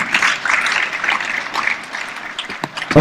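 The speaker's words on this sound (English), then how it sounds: "Please, a round of applause, Mr. Oscar." Applause from the audience at the Tanzania International Model UN 2020 opening ceremony fills a hall with dense, continuous clapping that holds steady for a few seconds, with little speech over it.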